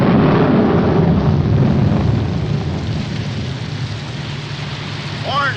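Steady heavy rain pours in a 1947 comedy film scene, a dense loud hiss that runs the whole time and eases slightly toward the end.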